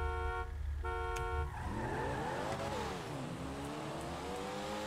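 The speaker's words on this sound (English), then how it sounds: "We're going on the third honk." In a racing video game, a car horn honks twice in quick succession, followed by a rising and falling engine rev as the car pulls away, loud and continuous.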